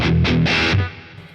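Electric guitar through a Boss Katana amp's distortion effect, a few quick chugged distorted chords with bright fizz, ringing briefly before cutting off.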